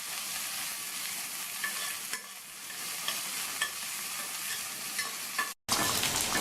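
Crushed shallots and garlic sauté in a pan for sambar, a continuous close frying hiss with occasional soft taps of a stirring spoon and a brief cut near the end, no voices.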